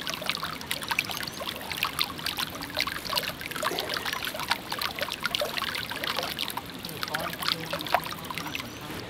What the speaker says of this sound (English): Just water and silt gushing up from underneath.